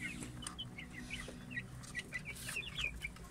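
About ten-week-old Plymouth Rock chicks cluck and cheep in repeated short, high calls close by, alongside a constant low hum of farm background noise.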